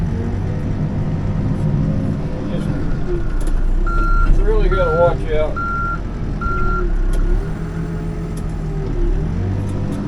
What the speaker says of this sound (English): Backup alarms don't mean that people hear you coming